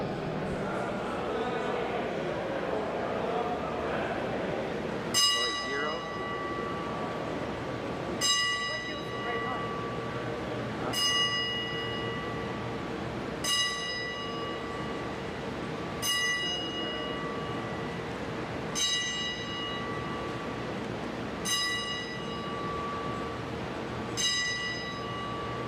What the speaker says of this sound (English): we'll do a 10-bell salute to Mr. Kevin Sullivan.